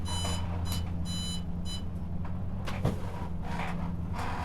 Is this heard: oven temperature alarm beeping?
yes